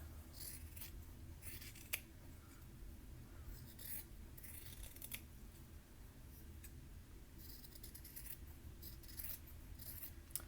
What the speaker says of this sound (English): I'm just going to trim all the way around.